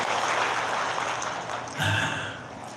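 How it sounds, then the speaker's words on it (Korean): Crowd applause at a rally for elderly participants in a senior jobs program, a steady broadband clatter of many hands clapping, swelling briefly near the end before tapering off. "다시 한 번 큰 박수로 환영해 주시면 고맙겠습니다"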